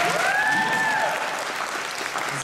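Audience applause at a Morphicon convention panel: a dense burst of clapping from a crowd indoors, steady and fading slightly, with a brief whistle near the start.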